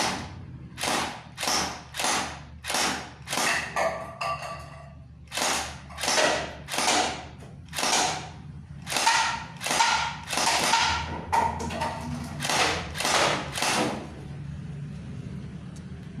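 A TG M4A1 (SENMA) gel blaster fires gel balls in a steady series of sharp, close thumps, roughly one every second, with a brief mechanical whir between some shots and no talk.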